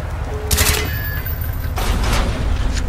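Gunfire in Call of Duty Black Ops aimed at door hinges, loud rapid bursts of shots in two clusters over a dense, rumbling game soundscape.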